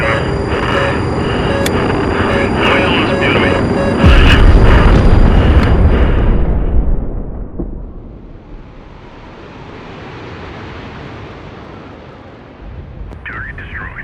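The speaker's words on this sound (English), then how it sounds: "I'm going to send a bombing run with some fighters to try to soften it up first" A fighter bombing run exploding a target in the naval combat game HIGHFLEET: a loud sustained rumbling blast that swells, then fades into a long low roar and wind-like decay, with game tones and voices over parts.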